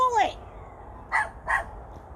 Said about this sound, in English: Taz, you're barking at the plant?